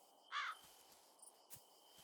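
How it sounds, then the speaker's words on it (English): A single crow caw sounds near the start inside a farming and life-sim game, a short harsh call over quiet background ambience, followed by a couple of faint clicks. "Yes, I hear you, crow."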